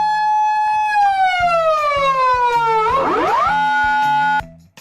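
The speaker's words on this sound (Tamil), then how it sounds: "பல்வேறு நாடுகள்ல போலீஸ் சைரன் சத்தம் எப்படி இருக்கும்னு தெரிஞ்சுக்கலாம் வாங்க." A Japanese police car siren wails loud and close, a long falling tone that turns into a rapid warbling sweep before it steadies and cuts off abruptly.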